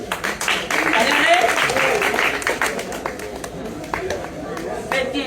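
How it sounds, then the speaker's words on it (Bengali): An audience claps at a local show, giving uneven, scattered claps that swell and fade while people talk and chatter over them. "সবাই একটা তালি মারে"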